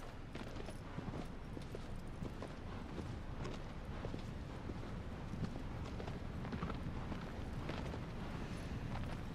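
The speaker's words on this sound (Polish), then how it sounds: "Kurna, ten koń tak chodzi wolniej niż ten główny bohater" Hooves of a horse clip-clopping at a steady walk in the video game Shadow of the Colossus, a continuous rhythmic patter of footfalls over a dense ambient game soundscape.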